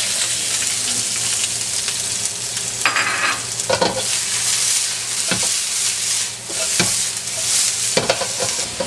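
Ginger, garlic and onion sauté in a pan for a Filipino dinengdeng, giving a loud, close, continuous sizzle with intermittent stirring scrapes and knocks and no speech.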